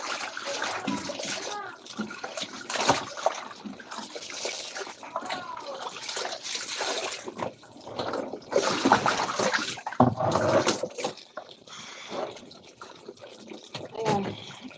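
Laundry is washed by hand in a basin of water, with close, irregular sloshing, splashing and squishing of wet fabric. A voice is heard now and then.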